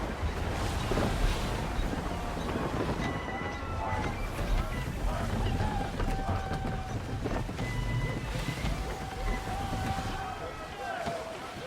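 Wind roaring across a sailing ship at sea in Assassin's Creed III, a steady, loud rush with creaking and sloshing water beneath, while crew members shout over it.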